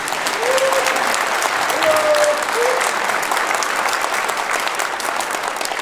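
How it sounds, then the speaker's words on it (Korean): A large audience of Korean residents in China applauds the president at a meeting, a dense, steady clapping that holds loud and even throughout. "박수 한번 부탁드립니다"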